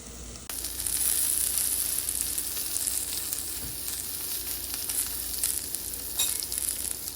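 Pointed gourd slices, skin on, frying in a pan with a thin coat of oil: a steady, close hiss of sizzling starts abruptly and continues evenly, broken by a few faint scrapes and pops, with no voices.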